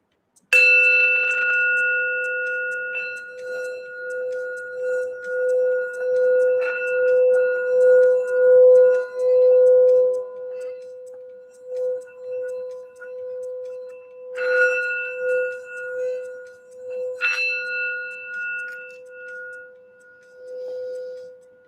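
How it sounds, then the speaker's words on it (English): Singing bowl or meditation bell struck for a grounding and healing moment, a long sustained ringing tone that swells and lingers, struck again twice later with bright shimmering overtones, alone and close. "we'll do a quick sound bell just for some grounding and some healing"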